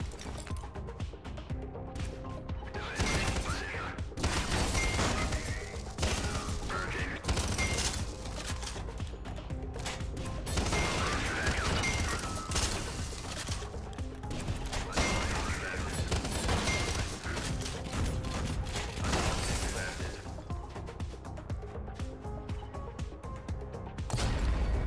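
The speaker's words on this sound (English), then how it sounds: "It's a nail gun." A nail gun fires rapidly in the video game Synthetik 2, a dense stream of sharp mechanical shots mixed with constant game music and effects throughout, with no talking.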